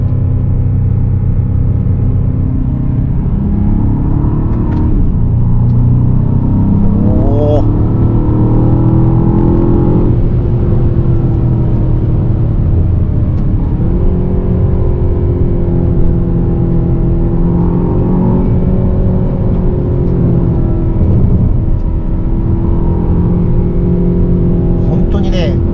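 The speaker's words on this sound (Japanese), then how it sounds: "スポーツモードはねエキゾーストの音がミディアム、ダンパーのモードもミディアムになってますね。" A 2025 Aston Martin DBX707 SUV in sport mode on Hakone roads, with a steady cabin-heard exhaust drone that rises and falls through gear changes, carried under an occasional voice.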